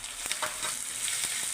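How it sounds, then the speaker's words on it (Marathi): Green chillies fry in a pan for baingan bharta, giving a steady, close sizzle with a few soft stirring scrapes throughout. "थोडंसं मिरचीला भाजू द्यायचं बघा"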